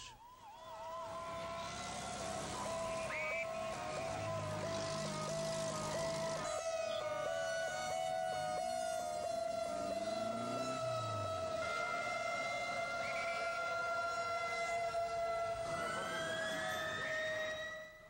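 Emergency vehicle sirens wail in Mexico City after an earthquake, overlapping steady and rising tones that carry on throughout at a moderate, somewhat distant level.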